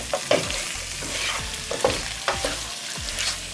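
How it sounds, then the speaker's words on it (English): Lamb and masala being stirred and fried in a karahi, a steady loud sizzle broken by repeated scraping strokes of the spoon every half second or so, close up with no talking. "we're just making sure that all the masala and all the meat are mixed well together and that the meat is cooked."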